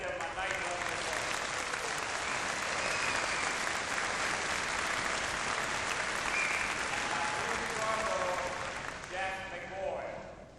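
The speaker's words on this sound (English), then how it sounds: "Let's give him a nice round of applause." Sustained applause from a large audience at a university convocation ceremony, dense and steady for about ten seconds before thinning slightly at the end.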